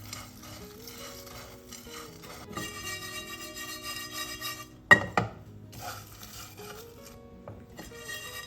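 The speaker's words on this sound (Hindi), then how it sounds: "अब थोड़ा सौंफ, मेलन सीड्स, काली मिर्च, छोटी इलायची, बहुत ही कम समय के लिए हीट लगवाएंगे बस।" Fennel, melon seeds, black pepper and green cardamom are dry-roasted in a pan, giving a few close scrapes and rattles with one sharp clatter midway, under quiet background music.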